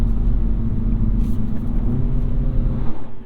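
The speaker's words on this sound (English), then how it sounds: "It's a pretty fast-reacting auto rev matching system." Engine of a 2022 Mini Cooper S hardtop two-door under way, a steady close low rumble with a brief rise and fall in pitch as the automatic rev matching blips the throttle.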